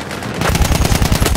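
Rapid, loud machine-gun bursts in Battlefield 1, a dense rhythmic chatter of close shots running continuously.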